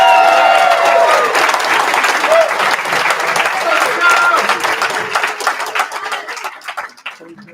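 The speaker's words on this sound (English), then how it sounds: "Can we give Kara another round of applause" Loud, sustained applause and clapping from a crowd at a graduation ceremony, fading out toward the end.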